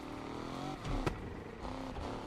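A car engine in a police chase video game drones steadily at a moderate level, rising briefly in a short rev near the middle, with no voices over it.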